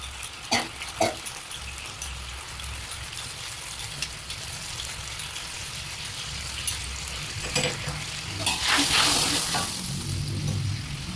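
Chili and garlic frying in a pan as mushroom sauce, dark soy sauce, palm sugar and salt go in for Thai basil tofu, a steady close sizzle with a few stirring clinks and a louder hissing surge near the end.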